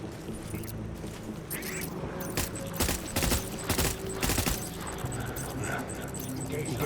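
Gunfire during a combat encounter in Death Stranding, as a cluster of sharp shots and impacts in the middle of the scene sits over constant game ambience and rumble, with a voice speaking.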